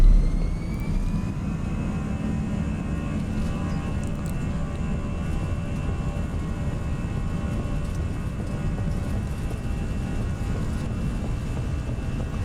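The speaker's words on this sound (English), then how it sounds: "let's advance the throttles forwards" Airbus A319 jet engines spool up for takeoff in X-Plane 11, a steady rising whine with tonal hums over a broad, constant roar, with no speech.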